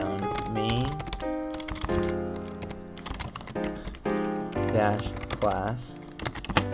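Keys clatter on a computer keyboard in quick irregular bursts while someone talks over them, the taps close and crisp.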